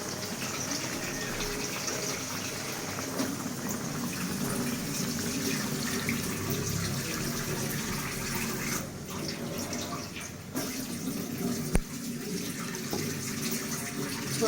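Water poured into a pan of hilsa fish curry to make the broth, a steady gushing pour that runs continuously through most of the clip with no talking.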